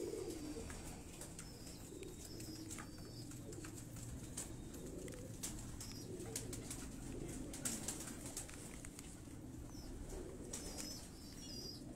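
Pigeons coo softly on a rooftop in Lahore amid a busy outdoor background, with scattered wing flaps and faint chirps; no one speaks.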